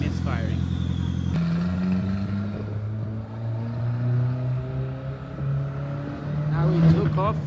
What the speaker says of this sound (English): Oh no, it's already misfiring.